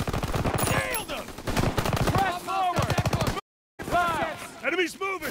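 Call of Duty WW2 gunfire on Xbox One: bursts of rapid shots crackle among shouted voices, with a brief silent gap and then more firing and yelling.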